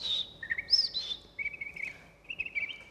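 A person whistles an imitation of a robin's song: a run of high, clear warbling phrases with short pauses between them, sounding close and fairly faint against a quiet room.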